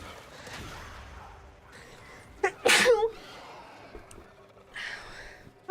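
One sharp, loud sneeze bursts out in the middle, set between quiet breaths and soft speech before and after it.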